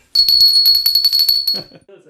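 A small souvenir bell from Sardinia, part of a collection of bells from fifteen countries, rings in a quick series of about a dozen bright, close strikes, then a voice speaks briefly.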